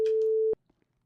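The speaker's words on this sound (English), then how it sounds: "And it's ringing on Brian's screen right now" A phone call tone in a role-play video game: a single steady electronic beep, loud and clean, holding for about half a second before cutting off into near silence.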